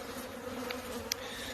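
Honey bees at a Michigan hive during spring build-up hum in a dense, continuous close buzz, with individual bees briefly louder as they pass near.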